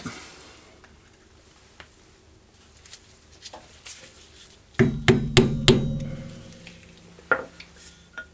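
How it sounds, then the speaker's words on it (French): A few sharp metallic taps from an impact screwdriver with a bit, used to remove a rear ball bearing: scattered light knocks, then a quick cluster of four or five ringing strikes and one more hit, close by in a quiet room. "j'ai pris un tournevis à frapper"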